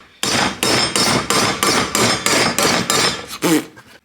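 Metal hammering as a battery tray is bent for an S13 Silvia: about nine loud, evenly spaced heavy blows ring out close by, with a slightly different final strike and no talk.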